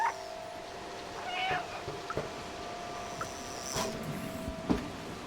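A cat meows a few times in the video game Stray, short quiet calls spaced across the clip over a low steady background hum.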